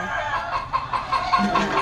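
Frightened silkie chickens in a new cage cluck in quick, repeated nervous bursts close by, a steady run of short calls.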